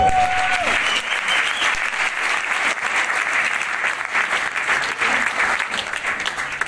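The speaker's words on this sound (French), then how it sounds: "Je vous prie d'applaudir bien fort pour tous les artistes." Loud, sustained applause from an audience at an award ceremony honouring artists, a dense continuous wash of clapping that holds steady with only slight swells and no clear talk over it.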